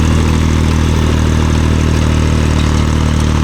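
A vehicle engine runs steadily during rotary cleaning in a farm orchard, a continuous loud low drone with no breaks and no talk.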